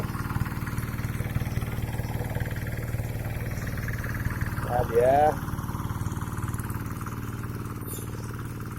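A steady low tractor engine chugs throughout in a rice field, with a brief squeal partway and a few spoken words over it.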